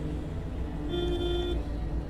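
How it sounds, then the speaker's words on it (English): A car horn in the driving game Pacific Drive sounds once in a held honk over a low, steady engine and road rumble, with no talk. "We can honk."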